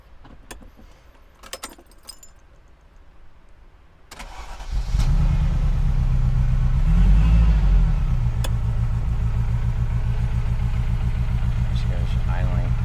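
A 1986 Ferrari 328 GTS starts with a jangle of keys, then its engine settles into a steady, loud idle close by with a brief rise in revs, speech quietly beneath it.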